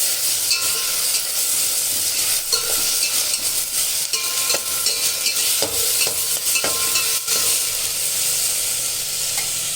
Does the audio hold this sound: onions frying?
yes